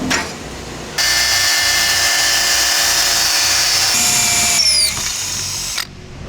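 A power drill whines loudly and continuously for several seconds while drilling holes for a homemade wheelie bar, its pitch rising near the end before it stops, with quieter background noise before and after.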